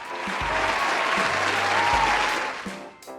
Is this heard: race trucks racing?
no